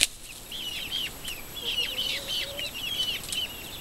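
Chickens, including an all-black bird among bearded chickens, cluck softly in a short series of calls over steady farmyard background noise.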